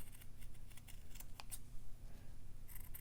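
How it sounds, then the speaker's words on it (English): Scissors snip through fabric in a run of quick, close, quiet cuts. "with my scissors I'm just going to round that bottom corner out a little more"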